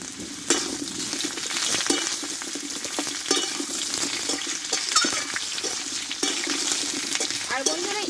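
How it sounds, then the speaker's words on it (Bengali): Pointed gourd (potol) and potato pieces stir-fried together in a pan for a spice-free vegetarian dish, a steady loud sizzle with repeated scraping and stirring strokes of a spatula throughout, no talking. "এবার পটলগুলো দিয়ে আলুর সঙ্গে একসঙ্গে ভালোভাবে আমি কষিয়ে নেবো"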